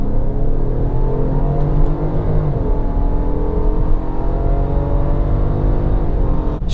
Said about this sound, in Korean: 하지만 풀스로틀을 하면